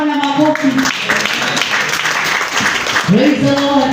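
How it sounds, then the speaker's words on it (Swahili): A church congregation breaks into applause for the Lord, a broad wash of clapping from many hands mixed with raised voices and shouting throughout, fairly loud and close. "Pigia Bwana makofi."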